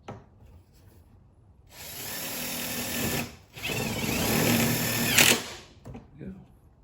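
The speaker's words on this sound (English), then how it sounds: "bolts to kind of self-tap into the new skid plate" A power driver runs self-tapping bolts into a new skid plate on a BMW F10 535i, with two sustained whirring bursts of a few seconds each separated by a short pause, fairly close.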